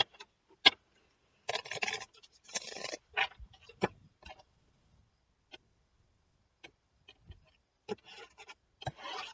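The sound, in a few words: tarot cards being shuffled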